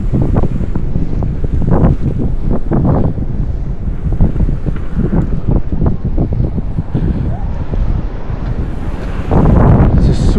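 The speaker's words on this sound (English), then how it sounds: "It's a super windy day today." Strong, steady wind buffeting the microphone throughout on a very windy day while cycling through Berlin, a continuous loud roar with gusty surges and no clear talk.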